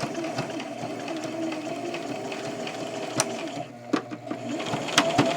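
A home sewing machine stitches over the pleats of a fabric face mask, a steady whirring hum with a rapid needle patter, pausing briefly near the end before running on again.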